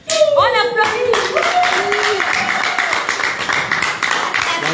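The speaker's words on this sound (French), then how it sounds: "On les applaudit." An audience claps together at a formal installation ceremony in Paris, with steady applause running throughout while voices speak and call out over it.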